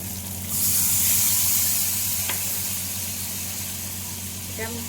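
Chicken kosha frying in a pan erupts into a loud, close sizzle as a little water is added, then settles into a steady hiss over a low background hum.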